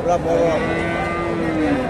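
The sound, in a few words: Friesian cross bull at a cattle market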